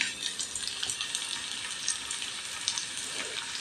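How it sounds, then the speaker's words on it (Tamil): Onions dropped into hot oil with cumin seeds, sizzling in a pan as part of a cauliflower lunch-box recipe; a continuous, close, bright hiss with small crackles throughout and no talking. "ஜீரகம் பொரிஞ்சிருச்சு. இப்போ வந்து வெங்காயம் போட்டுக்கலாம்."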